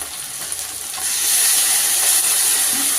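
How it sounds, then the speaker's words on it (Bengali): Spice paste of coriander and turmeric powder frying in a pan for a home chicken dish: a soft stir and low sizzle swell after about a second into a loud, steady hiss, with no talking. "দিয়ে মশলাটা কষে নেব।"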